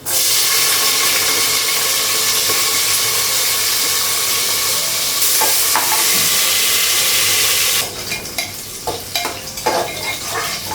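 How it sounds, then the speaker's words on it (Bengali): Chopped onion frying with whole cumin and green chillies in a pan, a loud steady sizzle with stirring that holds for several seconds, then softens into quieter crackling broken by scrapes and clinks of a spatula. "পেঁয়াজটা ভাজা হয়ে গেছে, মশলাগুলো লাগে।"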